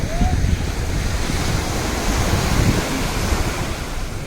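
Sea waves wash onto a beach in a constant, close roar of surf mixed with heavy wind buffeting against the microphone, steady throughout with no clear breaks.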